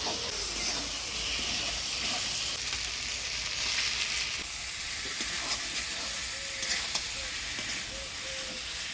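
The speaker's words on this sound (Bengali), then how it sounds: "ডিম দিয়ে মশলার সাথে ভালোভাবে কষিয়ে নিলাম।" Eggs and eggplant cook with spices in a pan, a soft, even sizzle and hiss running throughout at moderate distance, with a few faint stirring knocks near the end.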